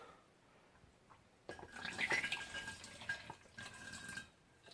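Pear brandy mash pours from a fermenter in a loose, splashing gush of liquid, starting after a quiet pause and running steadily with uneven surges and drips until the end.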